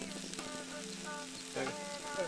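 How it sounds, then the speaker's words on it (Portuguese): Onion and sausage frying in a pan over a campfire at a lakeside campsite, a soft steady sizzle and crackle with a few brief clinks and a faint voice in the background. "a cebolinha está dourando"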